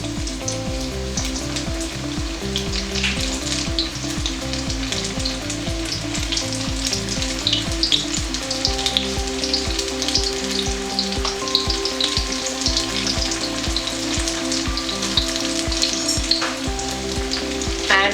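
Potato pakoras fry in medium-hot oil, a dense, continuous sizzle and crackle that stays loud and steady throughout, close up with no one speaking.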